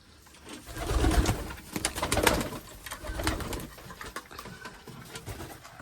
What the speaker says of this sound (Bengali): আর এখন কবুতরগুলোকে খাবারটা দিয়ে দিই